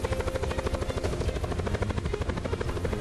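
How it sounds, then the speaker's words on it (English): A helicopter in Black Ops 4 Blackout thumps with fast rotor beats and a buzzing engine whine. It is loud and close and runs steadily with no voices. "I thought I was shooting our own helicopter"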